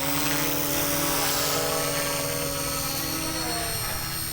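A small Eachine E160 3D RC helicopter hovers and flies slowly nearby, its rotor giving a steady, continuous whine with a low buzzing hum that holds level throughout, with no talking.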